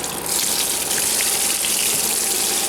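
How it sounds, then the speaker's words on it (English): Water drains steadily out of a milk cooling tank with a Fabdec cooling failure, a continuous gushing, splashing flow heard close up for the whole stretch, with no talking. "so I might start draining the water out"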